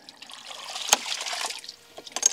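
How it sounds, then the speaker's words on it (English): Water in a ram pump that runs on flowing and falling water, with trickling and splashing, a sharp slap near the start and another burst near the end, close and moderately loud. "This is a ram pump. It's a water pump that needs no fuel or electricity to operate, only flowing and falling water."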